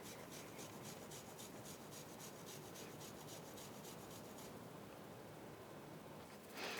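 Soft, close rasping as chocolate is grated by hand for the sides of a Black Forest cake. The scraping strokes repeat in a quick, even rhythm, then stop near the end.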